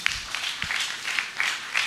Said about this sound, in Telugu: చప్పట్లు కొనండి అందరూ ఒకసారి.